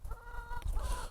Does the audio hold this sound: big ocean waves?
no